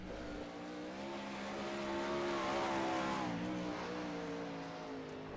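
Non-wing 360 sprint cars race on a virtual dirt track at Charlotte in a video game, with a steady, buzzing engine drone whose pitch swells and falls as a car runs a lap, loud and continuous.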